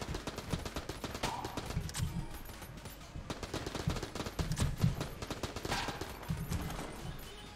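Rapid homing bullets in Enter the Gungeon fire as dense, steady bursts of small pops across several seconds, at moderate volume with no talking.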